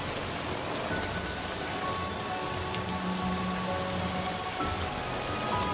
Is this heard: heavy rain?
yes